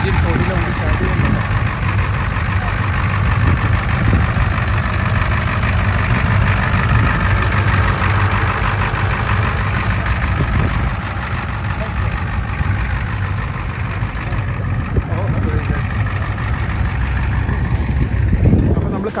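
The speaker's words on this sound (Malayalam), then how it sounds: "അത് നമ്മളെ പറഞ്ഞ 1940 വണ്ടി സ്റ്റാർട്ട് ചെയ്യുന്നുണ്ട്." A 1940 vintage car at an outdoor classic car show fair rumbles with a steady low engine idle throughout, its drone continuous and fairly close, mixed with crowd murmur and people talking nearby.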